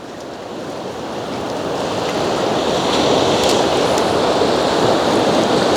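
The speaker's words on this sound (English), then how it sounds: "the waves crash up onto the reef and around Mushroom Rock" Waves crash steadily onto a reef and around a mushroom-shaped rock at Point Peron, a loud, continuous roar of surf that swells gradually and holds without any voices.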